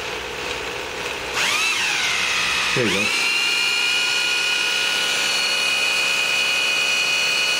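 A power drill priming an AMC engine's oil pump spins up with a rising whine, briefly stalls and bogs, then settles into a steady high-pitched run; a voice speaks briefly.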